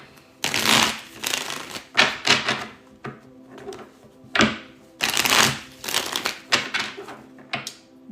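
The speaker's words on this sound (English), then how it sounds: "We just shuffled the vibe deck." A tarot deck is riffled and bridged twice, crisp, close-up rustling bursts separated by short pauses, with no talking.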